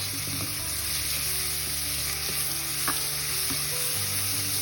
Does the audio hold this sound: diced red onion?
yes